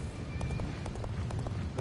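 Horse hooves gallop in a steady, quick rhythm in Dynasty Warriors Origins as Cao Cao's fast horse runs, fairly loud over a dense game-sound backdrop.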